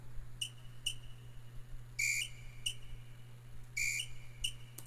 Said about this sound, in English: just like somebody's in the street blowing that whistle in the parade